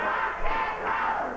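Wrestling crowd at a 1989 Memphis CWA arena show, a dense roar of many voices chanting together in rhythm, steady and full with a brief swell near the middle.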